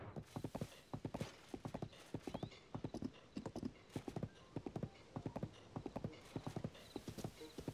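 A horse's hooves clip-clop at a steady trot in The Legend of Zelda: Tears of the Kingdom, close and even over several seconds, with no talking.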